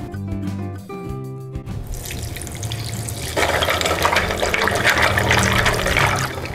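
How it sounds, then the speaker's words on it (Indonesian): Cassava roots being washed in water, a steady loud wash of running and splashing water after a brief tonal opening, close and continuous. "Kita cuci dulu singkongnya."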